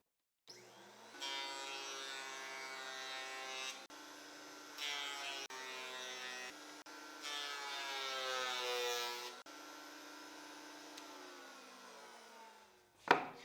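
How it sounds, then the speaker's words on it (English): Woodshop thickness planer taking a wooden board down to 30 millimeters: a sustained buzzing motor drone that surges and shifts in several stretches, ending in a sharp knock. "I'll run it through the planer to adjust the thickness to 30 millimeters"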